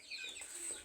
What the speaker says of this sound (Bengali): আপনাদের মুরগির খামারটা আমি দেখাই দিই।